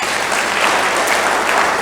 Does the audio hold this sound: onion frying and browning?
no